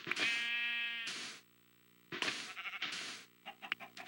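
Sheep in a video game bleat loudly in two long wavering calls with a pause between, followed by shorter choppy bleats and a few faint clucks at the end.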